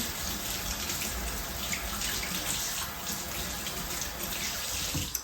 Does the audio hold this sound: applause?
no